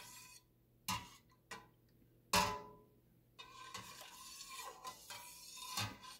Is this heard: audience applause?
no